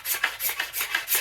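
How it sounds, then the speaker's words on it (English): A card scraper works down the side of a yew bow in about six even, rhythmic strokes, each a close, bright rasping scrape. "Down this side, the beautiful card scraper or cabinet scraper."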